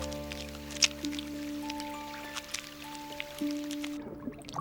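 Light, scattered drips from a rain shower tick irregularly through steady soft orchestral music, with no one speaking.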